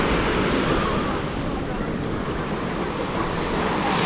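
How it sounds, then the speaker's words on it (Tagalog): Strong wind and surf at Saud Beach, a loud constant roar of breaking waves mixed with heavy wind buffeting the microphone, broadband and unbroken. "Ang lakas ng hangin. At ang lakas din pala ng alon"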